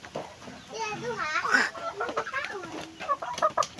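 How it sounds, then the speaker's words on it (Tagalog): Chickens on a small farm cluck and squawk close by, with a lively, uneven run of calls while someone talks over them throughout. "So ito lahat yung mga manok natin"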